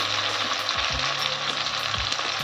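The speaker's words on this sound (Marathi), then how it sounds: "छान गोल्डन होईपर्यंत तळून घ्यायची आपल्याला ही भजी" Bhaji fritters for a Mahashivratri fasting recipe deep frying in hot oil until golden, a steady dense sizzle with a few soft knocks and low thumps from the pan, close and continuous with no talking.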